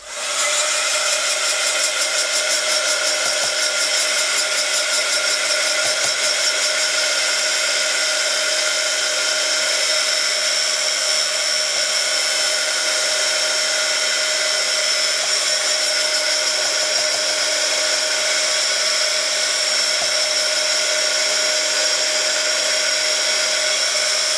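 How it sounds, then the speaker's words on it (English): A heat gun blows hot air to dry a mat, a steady, loud, high-pitched motor whine and airflow roar that holds unchanged for the whole stretch with no talking. "So just excuse me while I turn the heat gun on."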